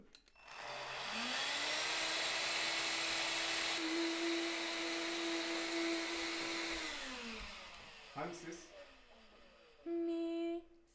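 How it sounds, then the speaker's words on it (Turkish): A vacuum cleaner whirs steadily for several seconds, then winds down, followed by a few clattering knocks and a brief restart. "süpürge mi sesini verdi"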